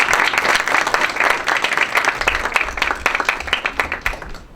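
A conference audience on Mexico's Foreign Service breaks into dense, steady applause from many hands. The clapping stays loud and close, with no talking, and fades slightly toward the end.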